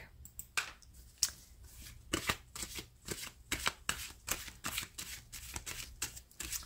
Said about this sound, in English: we'll go ahead and lay out the cards for the full zodiac.